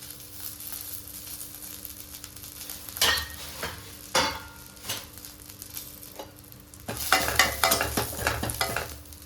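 Curry leaves hit hot oil in a pan where toor dal has been frying, giving bursts of crackling sizzle with stirring clatter, loudest near the start and again toward the end, with no voices.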